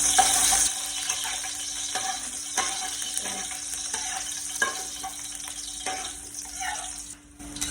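Garlic sizzling in a little oil in a pan, cooked at home for a southern Thai stir-fried vegetable dish with pork: steady close frying hiss with stirring scrapes and a brief watery splash, continuous throughout.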